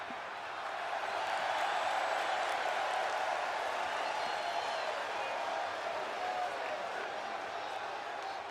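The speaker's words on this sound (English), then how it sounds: "And as to that crowd, the ovation for Abigail Diamond" Crowd at a wrestling show giving a sustained ovation, a continuous wash of cheering and applause that holds steady for several seconds.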